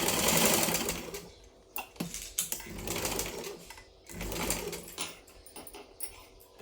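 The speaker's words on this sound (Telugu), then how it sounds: "ఇంకోటి కూడా కుట్టుకొని చూపిస్తాను" A sewing machine stitches a blouse lining in quick, uneven runs of rapid clatter broken by short pauses, close up and with no voices.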